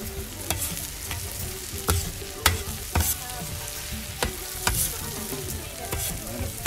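Paella ingredients stirred in a sizzling pan, a constant close frying hiss broken by sharp, irregular clacks and scrapes of the utensil against the pan, with no talking.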